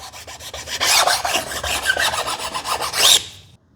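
A hand file rasps across the edge of a plywood bath cabinet part in a fast series of rhythmic strokes, close and fairly loud, ending in a brief quiet.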